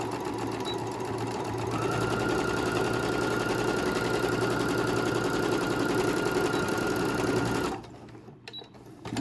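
A sewing machine runs steadily while chain stitching a seam, giving a fast, even mechanical rattle for about eight seconds before it stops abruptly, leaving faint clicks.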